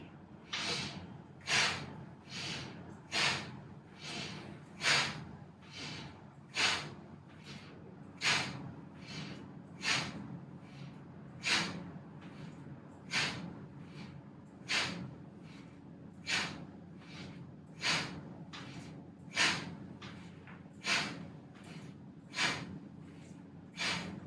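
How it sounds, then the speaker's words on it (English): Active breathing exercise with about twenty sharp, forceful breaths in a steady rhythm, each a loud burst of air every second or so, close and clear over a soft low room hum. "Inhale actively. Exhale actively."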